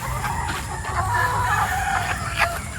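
Mixed batches of young pullets cluck and call continuously in a pen, a busy chorus of overlapping chicken sounds at moderate distance with no talking.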